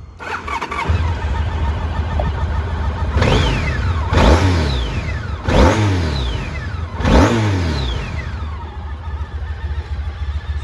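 A 2002 Honda ST1300A Pan European motorcycle with 54,339 miles idles loudly up close, then gets four sharp throttle blips that rise and fall before settling back to a steady idle.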